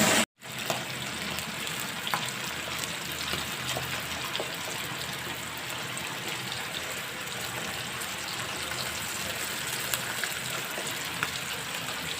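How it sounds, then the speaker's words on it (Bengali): Pabda fish frying in white oil, a dense, steady sizzle up close that starts abruptly after a brief silence and carries on unbroken, with faint pops scattered through it. "সাদা তেল দিয়ে মাছগুলো ফ্রাই করে নেবো"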